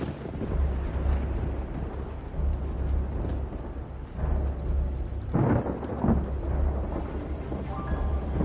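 Steady rain pours down throughout an outdoor scene during a military campaign drama set on the way to Fuzhou, with low rumbling thunder rolling beneath and a brief louder crash midway, no voices.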